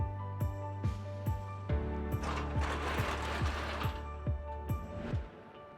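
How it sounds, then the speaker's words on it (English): A Q-Catch MKII cattle crush side squeeze is pushed in, giving a steady run of sharp metallic ratchet clicks about every half second, close and clear, with a rattling clatter in the middle and no talking. "to operate the side squeeze, it's just a matter of pushing it in, which goes very narrow to deal with calves"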